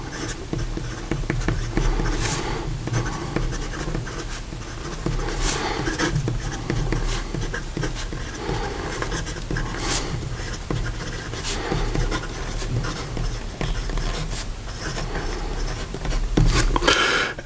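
A Diplomat Excellence A Plus fountain pen with a broad nib writing on paper, a close, continuous soft scratching that stops and starts in short strokes, with no talking.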